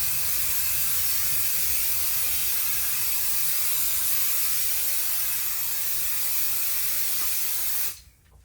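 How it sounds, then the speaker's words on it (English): Temporary fabric adhesive sprays steadily from an aerosol can in one long, loud continuous hiss lasting about eight seconds, then stops abruptly. "So we'll just spray a little bit"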